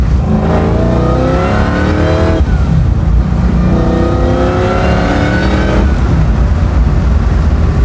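A supercharged Chevy Camaro pro-touring build revs hard and climbs through the gears, each pull rising in pitch before a brief drop, loud and close with no voices.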